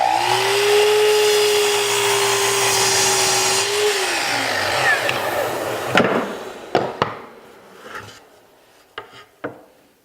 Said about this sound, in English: the first step is to go ahead and cut all my sides to the length of the glides